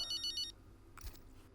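Short electronic phone ringtone in the racing game F1 25, a few quick repeated chirping tones for about half a second, then a brief soft blip, with no talk.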